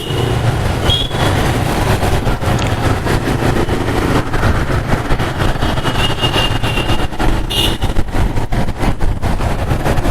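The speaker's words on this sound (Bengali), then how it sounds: "আজকে রাস্তায় প্রচুর জ্যাম" Dense road traffic in a jam, heard from a street where a Gixxer and a Hornet motorcycle wait, with a steady loud rumble of idling engines and vehicles continuing without pause and no voices.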